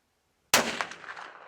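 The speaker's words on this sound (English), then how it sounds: "First, it was off to the range to sight in Chris's .308 caliber rifle." A single sharp report from a .308 caliber rifle at an outdoor shooting range, loud and close, followed by a short decaying echo.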